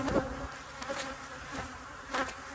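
Honey bees buzz steadily around healthy hives in an apiary, a continuous close insect hum with a few louder passes as individual bees fly near, with no talking.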